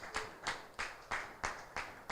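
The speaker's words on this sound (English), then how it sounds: "Could we please give them a round of applause" Audience applause at a partnership conference, heard as a steady, rhythmic run of about seven clear claps at moderate distance, with no talking over it.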